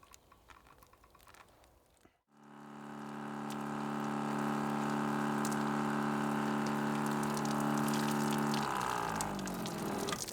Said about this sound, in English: Having a hot shower out here.